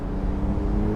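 A Porsche 911 992 Turbo S running in sport mode with its sport exhaust open gives off a brief, loud, deep engine drone up close.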